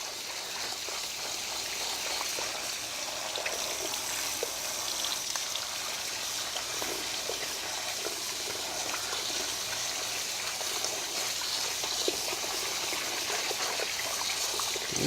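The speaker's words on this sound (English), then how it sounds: "we're going to rinse this off," Steady stream of tap water pours over beans being rinsed in a kitchen, a continuous close trickling and splashing with no talk.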